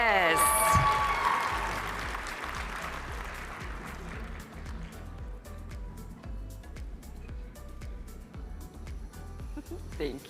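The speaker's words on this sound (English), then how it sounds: "Give him a round of applause." Audience applause at an HBCU engineering deans' recognition event for a student, loudest at the start and slowly thinning into steady clapping, with voices talking over it.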